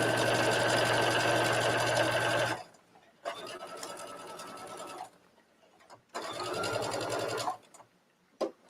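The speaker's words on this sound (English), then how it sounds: "So for this, I do a back stitch. I'm using a basting stitch." A sewing machine runs a basting stitch in three bursts of steady rapid whirring: a long opening run, then two shorter runs separated by brief pauses, close and fairly loud with no talking.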